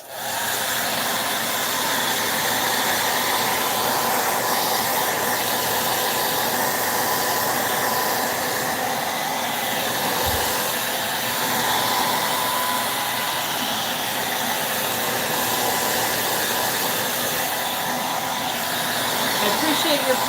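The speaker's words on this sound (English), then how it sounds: "So here I go again with the dryer." Hair dryer blowing steadily to dry paint on a shabby chic mailbox project, a continuous close airy whir that runs the whole time with barely any change.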